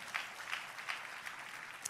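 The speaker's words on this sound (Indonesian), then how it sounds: "tepuk tangannya boleh yang paling meriah buat Yesus Tuhan kita" A church congregation applauds, steady and fairly faint clapping with a few sharper claps standing out, no speech over it.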